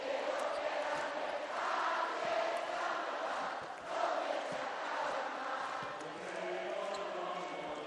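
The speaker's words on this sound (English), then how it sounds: "Listen to that crowd." Arena crowd at a women's EuroCup basketball final first leg, BAXI Ferrol versus Villeneuve d'Ascq, cheering and roaring as a steady, dense wash of noise throughout, with occasional swells and no clear voice over it.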